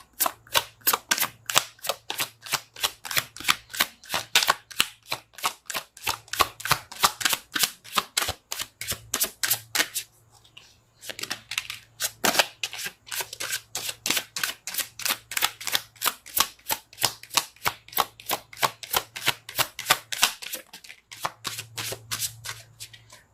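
Tarot cards are shuffled by hand in a fast, steady rhythm of crisp riffling flicks, close and clear, pausing briefly now and then before resuming, with a faint low hum underneath.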